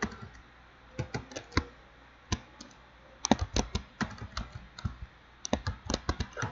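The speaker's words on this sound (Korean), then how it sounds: "정말 타이핑 묻히네요." Typing on a computer keyboard, close and crisp, with bursts of rapid keystrokes separated by short pauses, the clicks standing alone against a quiet room.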